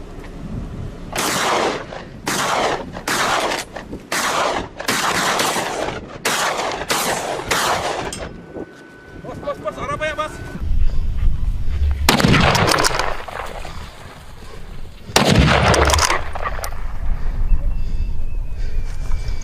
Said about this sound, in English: The successive gunshots quickly brought down 2 more from the herd